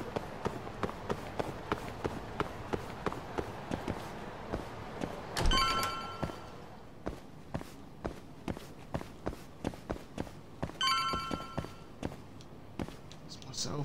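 In the video game Lost Judgment, a cell phone rings in two short electronic bursts, set against steady, regular footsteps throughout.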